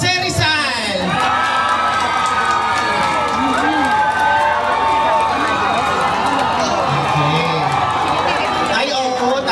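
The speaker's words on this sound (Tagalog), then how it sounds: "Hiyawan po para kay Jose Rizal." Crowd at a Christmas party costume contest cheering and shouting loudly and continuously, with whoops and screams filling the hall for several seconds before fading at the end.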